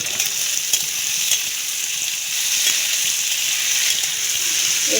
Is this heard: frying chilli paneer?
yes